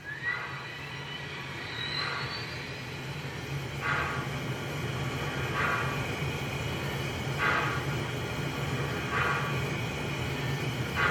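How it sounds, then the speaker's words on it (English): An MTH HO Class J 611 model steam locomotive with Proto Sound 3.0 runs its startup sound: a steady mechanical hum with evenly spaced chuff-like bursts about every two seconds, without talk. "with MTH locomotives you hit F3 for startup."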